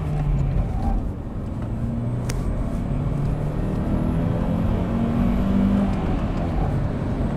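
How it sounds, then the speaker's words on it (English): A second-generation Honda CR-V swings through a slow U-turn, its engine and road noise a steady, close, even drone with no sharp revving throughout. "I'm gonna do a U-turn here so we can see how this thing is."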